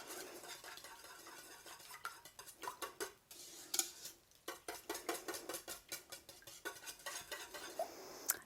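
A spoon stirring a mixture of half and half, whole milk, sugar and vanilla in a bowl, with rapid repeated clinks and scrapes in an uneven rhythm, close and fairly quiet.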